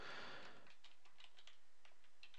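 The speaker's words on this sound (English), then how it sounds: "you can just type in the display URL" A computer keyboard is typed on in a quick run of faint, soft keystrokes, following a brief louder rustle at the start.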